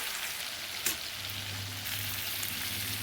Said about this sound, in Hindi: तो यहाँ कर लिया है मैंने मीट फ्राई, और अब मैं इसमें डालूँगी जो मैंने काट कर रखे हैं साग